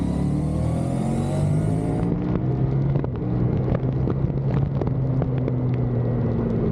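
A Triumph Tiger motorcycle engine climbs in pitch as the bike accelerates through a turn, a loud, steady rising drone heard from the rider's position with no speech.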